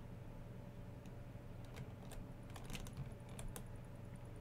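Keyboard typing picked up over an online game voice chat: scattered soft key clicks in short bursts, faint and somewhat distant, over a steady low hum, with no talking.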